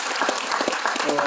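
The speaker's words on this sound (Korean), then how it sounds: "박수 한번 쳐주세요." Applause from an audience at a Korean book launch event, a dense burst of clapping over the whole moment with voices mixed in underneath.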